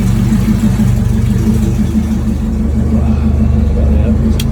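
A Honda Civic converted to all-wheel drive, built with upgraded rods and pistons and an epoxy-filled block, runs steadily at a loud, close idle with a low, continuous drone and no gaps.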